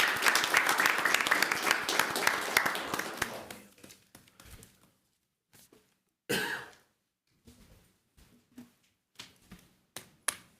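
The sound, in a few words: round of applause at council meeting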